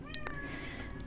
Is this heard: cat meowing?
yes